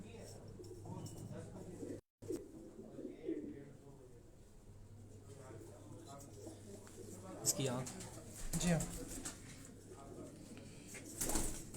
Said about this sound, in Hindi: कबूतर हैं मोतियों वाले